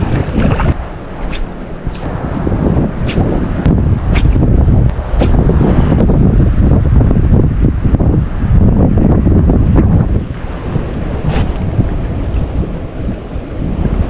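Rough sea and strong wind buffet a small fishing boat off Quezon. A loud, constant roar of gusting wind and rushing water runs throughout, with sharp knocks and splashes.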